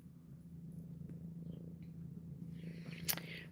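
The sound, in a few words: cat purring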